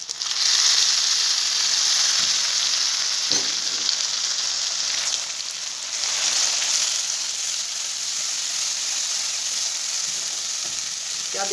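Mustard-green saag frying in desi ghee, a loud continuous hissing sizzle close by, with a few soft stirring knocks and scrapes breaking through now and then.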